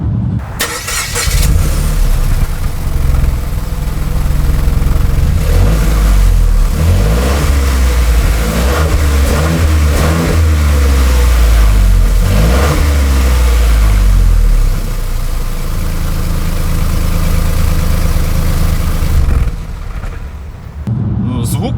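A DS3 Crossback with a 1.2 turbo petrol engine revs loudly through its exhaust, rising and falling in several sustained pulls before settling toward idle, close and dominant with no talk over it.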